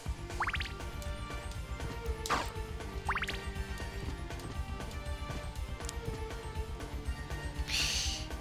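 Water drips in Castlevania: Symphony of the Night, a few faint separate drops over a steady low game soundscape, with a brief brighter splash near the end.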